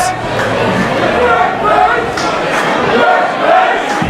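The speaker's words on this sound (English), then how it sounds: "the Brent Banks chant" A wrestling crowd at a King of the 6ix event chants for Brent Banks in loud, rhythmic waves that rise and fall roughly once a second, with a voice talking over the din.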